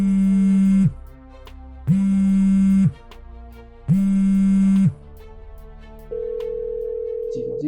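Phone call to a relative ringing unanswered: a loud, steady electronic tone pulsing on and off in regular one-second bursts, three times, followed by a different sustained tone.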